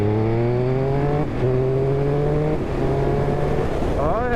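A 2023 Triumph Speed Triple RS motorcycle engine pulls hard through the gears, its rising revs broken by brief dips at each shift, loud and close as the bike accelerates on the road.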